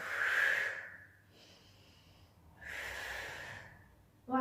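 Two forceful breaths, each a loud exhale followed by a quieter inhale, from a person doing gentle crunches in an ab workout, close and clear with no talking.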